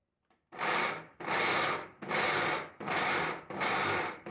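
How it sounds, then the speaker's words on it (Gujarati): A mixer grinder pulses dry garlic chutney ingredients to a coarse grind: five loud, even motor bursts of about half a second each, separated by brief silent gaps, with no voices. "તો આપણે એને શું કરીશું, પલ્સ પર ચલાવી અને પીસી લઈએ।"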